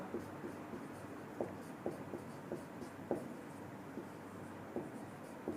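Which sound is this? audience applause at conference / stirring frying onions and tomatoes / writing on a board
writing on a board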